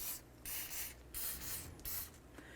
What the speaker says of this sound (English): let's go ahead and spray down the rotor with a little bit of penetrant